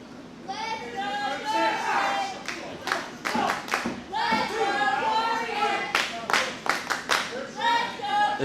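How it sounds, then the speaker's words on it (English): Wrestling crowd at a ProSouth Wrestling event clapping in bursts and chanting, a dense, steady roar of many voices with sharp rhythmic claps rising and falling throughout, loud and close. "This crowd trying to will Dorian Crow back"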